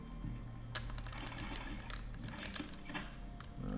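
Computer keyboard typing while playing Apex Legends with mouse and keyboard, quiet rapid keystrokes clicking over a steady background hum from the game.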